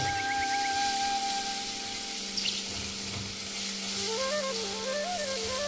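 Ginger and garlic sizzle and fry steadily in a pan, a continuous close hiss with occasional stirring, while music plays alongside.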